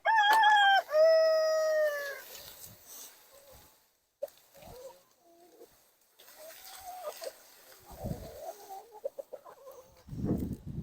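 Buff and Marans chickens by their coops on a farm open with a loud rooster-like crow. Scattered soft clucks follow, with rustling, thumps and brief human voices between quieter gaps.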